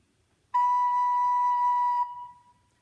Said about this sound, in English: we're going to use soft, slow, smooth air and play B.